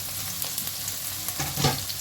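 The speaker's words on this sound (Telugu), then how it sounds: "రెండు ఉల్లిపాయలు వేసుకోవాలి" Chopped onions frying in oil for a broad bean fry, a steady close sizzle with light stirring scrapes and a stronger clatter near the end.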